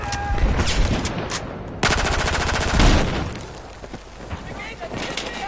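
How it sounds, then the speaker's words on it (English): Machine gun fire in an online shooter video game: sustained rapid bursts of automatic gunfire, loud and dense, with a steady fast rattle through the middle of the clip, while a player talks over it. "Machine gunner."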